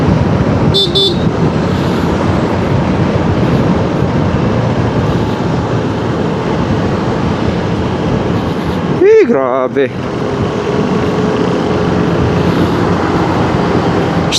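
Steady road traffic hums and rumbles continuously during a cold ride, with a loud car horn blast near the middle and a short toot at the start; a voice speaks briefly.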